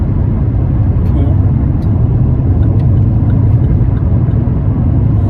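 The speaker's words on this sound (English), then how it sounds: "got a long car ride today" Steady low road rumble and engine drone fill a car's interior during a long drive, constant and fairly loud with faint clicks, while someone talks over it.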